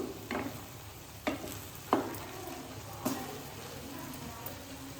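Ridge gourd pieces, tomato and tamarind simmer in a pan, giving a steady low bubbling with a few sharp scrapes of a stirring spoon spaced about a second apart, close and moderately quiet.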